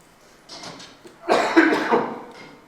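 A person with a lingering cough after a cold coughs at a symposium microphone: a faint short cough followed by a louder, harsher burst of coughing, close and alone.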